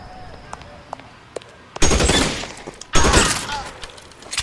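Two heavy bursts of gunfire in L.A. Noire, each rattling for about a second, with faint scattered shots and small thuds between them and no voices.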